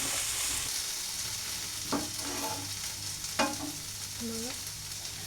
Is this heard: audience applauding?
no